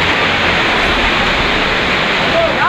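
Heavy rainwater rushing through a neighborhood lane and into houses, carrying garbage from uncleared drains; a dense, constant roaring wash of flowing water fills the whole stretch at high volume.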